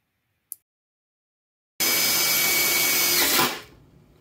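Power drill driving a self-tapping sheet metal screw through an anti-rotation bracket for a damper motor: a faint click, then a loud, steady whirring run of about two seconds that cuts off abruptly.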